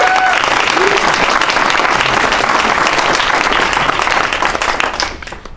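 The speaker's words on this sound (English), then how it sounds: "by a show of applause, we can decide" A crowd at a BattleDecks presentation event claps loudly and steadily to vote for a contestant, dense applause filling the room without a break before tapering off near the end.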